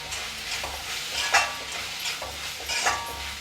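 Chilli powder and chicken masala being stirred through a pan of frying soya chunks, giving a steady soft sizzle broken by a few scraping strokes of the spoon, close and alone without voices.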